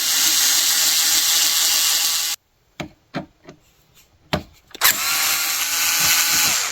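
A power driver backs 2.0mm hex screws out of a Losi LMT frame: a loud, steady whirring stops, short grinding bursts follow, then the continuous drive resumes, with no voices.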